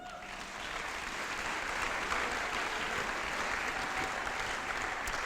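A church congregation applauding, a dense, sustained wash of many hands clapping together that swells slightly after the first second and holds steady at moderate loudness, with no speech over it.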